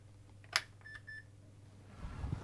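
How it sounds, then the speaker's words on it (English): An Epson HX-20 laptop powering on gives a short, faint electronic startup beep after a click, over a quiet background hum in a workshop setting. "I heard our Roger beep there."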